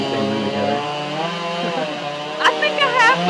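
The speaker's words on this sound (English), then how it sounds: "You ever use a chainsaw?" A chainsaw carves wood into shapes at the Albuquerque Balloon Fiesta, a loud, steady engine drone running throughout with slight pitch shifts, and a couple of brief higher bursts near the end.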